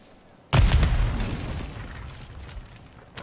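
A grenade blast in Warzone battle royale gameplay: one sudden heavy boom with a deep low rumble that slowly fades over a few seconds, loud and close, with no talking over it.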